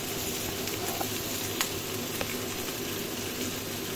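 Pork belly adobo sizzles steadily in a pan as soy sauce and adobo seasoning mix are poured in, a continuous even hiss of frying with a couple of small pops, close and alone.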